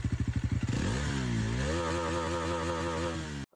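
A Bajaj Pulsar NS 400Z motorcycle exhaust, close and loud, opens with rapid pulsing idle beats, then revs up and holds a steady, rising engine drone with no talk, cutting off abruptly at the end.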